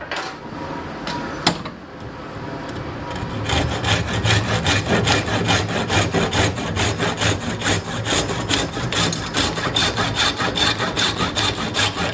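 A hand saw cuts through a wooden axe wedge with quick, regular back-and-forth strokes, close and loud, after a few seconds of scraping.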